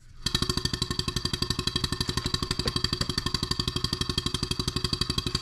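Stuart 7A model steam engine running on 12 psi of compressed air at about 360 RPM and driving a small DC generator. It chugs loudly and steadily in a fast, even rhythm, with metallic clatter over the exhaust beats and no one talking.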